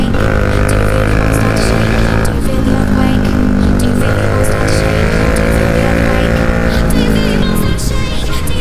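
A Bajaj Dominar 400 motorcycle with a very loud aftermarket exhaust drones continuously up close, a deep throbbing rumble with rising and falling revs that dominates throughout, with a voice faintly buried beneath it.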